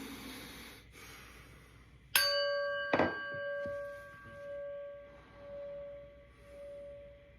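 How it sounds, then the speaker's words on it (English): A prayer bell is struck once after soft breathing, producing a bright metallic ring that sustains and slowly fades, with a dull knock shortly after and a faint, wavering hum lingering to the end. "So let's start out with the prayer bell."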